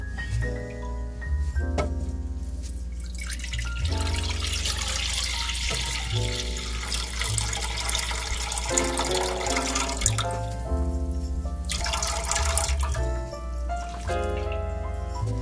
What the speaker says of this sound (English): I'm going to pour some drippings from this pan where the turkey is